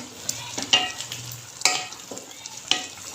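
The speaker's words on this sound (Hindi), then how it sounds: "इसको हम अच्छे से मिक्स कर लेते हैं।" Chicken masala curry frying over a high flame while being stirred, with a steady sizzle broken by a few sharp scrapes of the spoon against the pan, close and alone.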